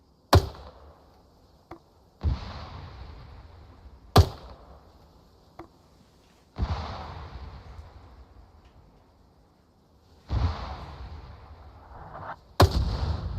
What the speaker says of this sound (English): That's mortars.